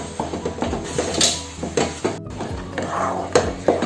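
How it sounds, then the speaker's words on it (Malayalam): A spoon clinks and scrapes against a pan while a jackfruit mixture with cardamom and ghee is stirred, giving irregular metallic knocks at close range. "ഇനി ഇതെല്ലാം കൂടെ നന്നായിട്ട് അങ്ങോട്ട് മിക്സ് ചെയ്ത് കൊടുത്തതിന് ശേഷം ഫ്ലെയിം ഓഫ് ചെയ്യാം."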